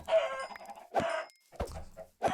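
Minecraft chickens cluck in short, separate bursts of bird calls with brief pauses between them, fairly close and alone with no talk.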